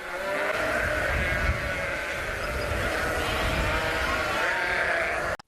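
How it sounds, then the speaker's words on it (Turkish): A dense chorus of many sheep bleating at once, loud and continuous, overlapping cries from a large flock of lambs and ewes. "Kapıların açılmasıyla yüzlerce kuzu anneleriyle buluştu."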